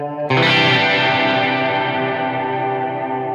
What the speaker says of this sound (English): the next effect that I add to this is this Mxr Reverb. I have it on what's called the Epic preset.